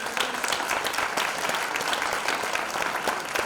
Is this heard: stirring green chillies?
no